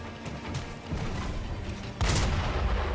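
Cannon-like gunfire from a rolling enemy in Sekiro, a muffled boom early on and a loud close blast near the end over steady game ambience.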